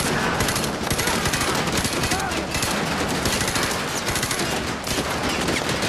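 Continuous machine-gun fire and rapid gunshots from a video game fill the whole stretch, loud and dense, with voices and game dialogue mixed underneath.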